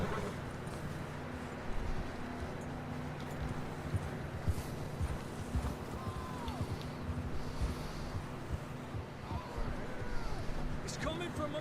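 Horses clip-clopping at a walk in the Red Dead Redemption 2 video game, hoof beats irregular and moderately close beneath ambient outdoor sound and occasional snorts.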